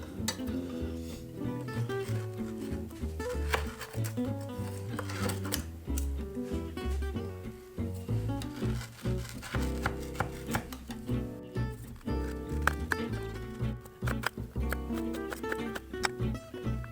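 A knife slices through chocolate peanut butter rice krispie treats on a board, giving repeated crisp crunching cuts and sharp knocks in an irregular rhythm, close and fairly loud, with a faint backing of music or talk.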